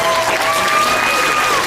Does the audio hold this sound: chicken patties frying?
no